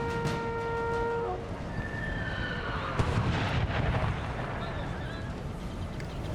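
Artillery fire and battle noise in Napoleon Total War, a loud, continuous rumble of cannon and gunfire with a sharp report near three seconds, under steady in-game sound and voices.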